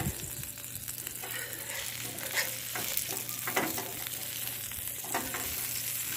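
Restaurant-style hash browns sizzle in a pan as they are flipped, a steady frying crackle with a few louder scraping and stirring bursts from the spatula, fairly quiet and close.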